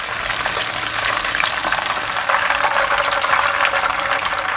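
Pork ribs deep-fry in hot oil for crisp garlic ribs, a loud, dense, continuous sizzle and crackle with busy bubbling throughout and no voices.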